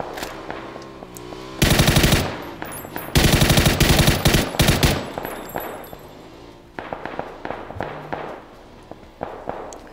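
Automatic rifle fire in PUBG Battlegrounds comes in two loud, dense bursts, followed by scattered single and short-burst shots, some nearer and some further off.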